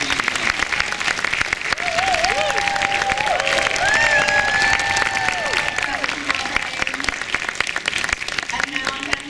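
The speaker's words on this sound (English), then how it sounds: "Round of applause for you." Sustained applause and cheering from an audience at a Los Angeles event fill the room, loud and continuous, with voices and whoops rising over the clapping throughout.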